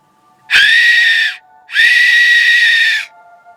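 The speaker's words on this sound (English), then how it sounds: "fox call whistle." A fox call whistle blown at night to lure a fox, two loud, close, shrill screeching blasts of about a second each, separated by a short pause, with silence around them.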